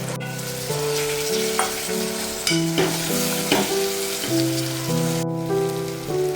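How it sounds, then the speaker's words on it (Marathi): Potatoes sautéing in a spiced masala of chilli powder, coriander powder, garam masala and turmeric give off a loud, steady sizzle with scraping stirs. Background music plays throughout. "तयार मसाल्यामध्ये ना बटाळी टाकते आता"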